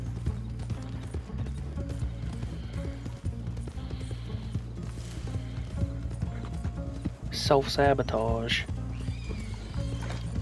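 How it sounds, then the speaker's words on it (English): Horse hooves clip-clop at a steady rhythm in the Red Dead Online video game, loud and close, with a sharp whinny partway through, mixed with game sounds while someone talks over it. "Come on, pick up the pace, you stupid ass horse."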